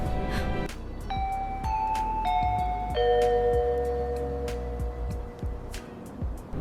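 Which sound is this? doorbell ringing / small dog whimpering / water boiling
doorbell ringing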